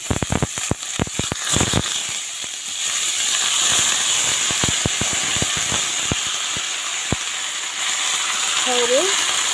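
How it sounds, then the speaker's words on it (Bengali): Radish hits hot oil with black cumin and green chili: a burst of clattering knocks at first, then a loud, even sizzle and hiss, dotted with scattered clicks of stirring. "কালো জিরা আর কাঁচা লঙ্কা দিয়ে মূলা ভাজবো।"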